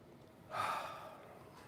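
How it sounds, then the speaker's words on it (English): A single slow, deep breath is drawn in close to the microphone, a soft airy rush that swells and then gradually fades in an otherwise quiet room. "Take a nice deep breath."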